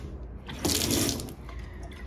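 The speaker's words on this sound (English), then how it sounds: "I say we've got running water." Water runs from a kitchen tap in a steady hiss that swells loudest for about half a second before settling into a softer flow, heard close with no talking.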